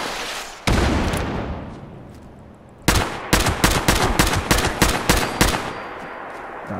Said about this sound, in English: Stop shooting missiles at me